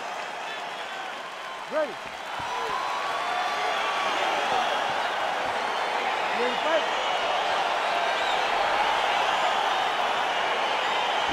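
Arena crowd noise from the UFC 4 video game swells into a steady, dense roar of cheering and applause as the fight begins, continuous and fairly loud, with a commentator's voice briefly heard near the start.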